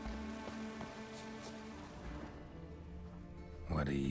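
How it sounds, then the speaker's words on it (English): Rain falls in The Witcher video game, a soft, steady wash of patter in the background, mixed with tonal game music and faint ambient sounds. "Looks like rain."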